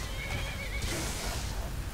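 Horse neighing in the Skyrim video game, a loud wavering whinny lasting about a second over a dense rumbling background.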